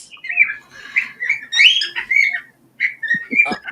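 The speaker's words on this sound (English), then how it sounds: "I'm getting into an actual argument with a bird" A bird calls repeatedly in loud, squawky, whistled bursts with short pauses, close by, ending in a few harsh rapid notes.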